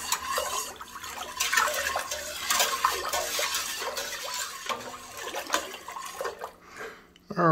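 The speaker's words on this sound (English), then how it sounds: "after a pretty good vigorous stir" A watermelon wine mixture being stirred vigorously in a container after sugar is added, giving a continuous close sloshing and swirling with scraping clatter, loud and steady for several seconds before it slows near the end.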